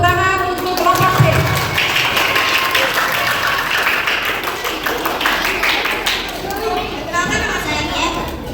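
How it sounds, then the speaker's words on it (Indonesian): Children clap for group B at a school Easter celebration, a steady patter of hands running throughout under a loud voice and chatter from the crowd. "Tepuk tangan untuk kelompok B."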